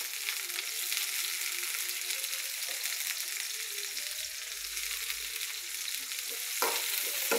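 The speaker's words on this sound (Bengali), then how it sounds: "আমি ভেজে নেব একটু" Chopped garlic, onion and chili fry in oil with a continuous soft sizzle and a few scraping stirs near the end, fairly quiet and without talk.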